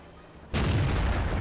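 A tank cannon shot slamming into the ground in World of Tanks, one sudden loud boom after a quiet lead-in, trailing into a heavy rumble.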